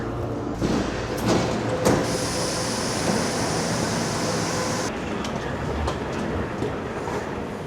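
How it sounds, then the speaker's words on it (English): An airport train in Panama rumbles past close by, a steady loud roar with rattling and a hissing high edge that drops off partway through. "There you go, train to the airport."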